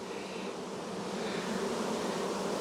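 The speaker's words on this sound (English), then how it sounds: "I hate it when I get bees on the ground." Honey bees swarm around a hive frame, a dense, continuous close buzzing of many insects with no pauses.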